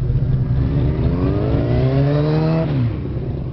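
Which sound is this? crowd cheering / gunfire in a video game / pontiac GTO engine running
pontiac GTO engine running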